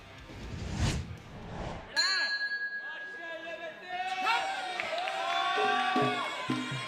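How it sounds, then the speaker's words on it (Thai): Iranian supporters cheering at a Thai boxing match, crowd shouts and whoops rising over ringing bell-like tones and clanging, with a commentator's voice woven through. "เสียงกองเชียร์จากอิหร่านครับ"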